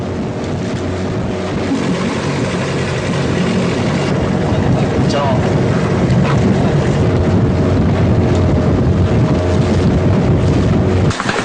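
A speedboat crossing open sea toward Pulau Wanang, a continuous loud roar of engine and rushing wind and water that holds steady without a break throughout.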